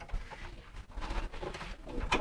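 Racing pigeons coo softly nearby, low throaty murmurs repeating over a faint background rustle.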